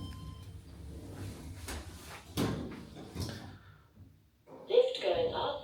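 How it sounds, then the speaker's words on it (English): Elevator doors slide shut in the Garry's Mod video game, giving a few soft thuds and a muffled closing clunk under light talk, followed by a brief chime-like tone. "Doors closing."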